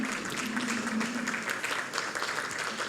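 An audience in a formal judicial medal ceremony hall applauds a choir performance with sustained, dense clapping that stays steady and moderately loud throughout.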